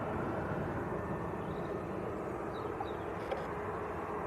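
A NetJets Cessna Citation 680 business jet touches down at Manchester Airport, heard as a steady, broad engine roar and rumble of moderate loudness that holds throughout without a clear peak.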